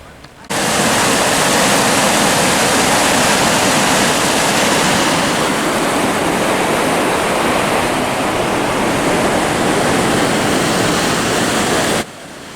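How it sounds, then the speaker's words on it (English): Roar of water at Silver Creek Falls, a steady dense rushing wash that starts abruptly and holds at constant loudness before cutting off, with no talk. "From the parking lot, we can hear the roar of water"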